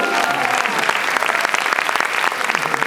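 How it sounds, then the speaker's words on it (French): Audience applause fills the space as a crowd claps steadily and densely throughout, loud and continuous with a faint murmur of voices underneath. "On peut les applaudir"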